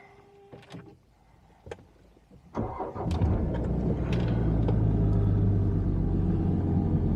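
A Jaguar XF 3.0 diesel is cranked after a few interior clicks and starts with a sudden rise into a steady, loud, low idle rumble that stays on to the end, close by inside the car.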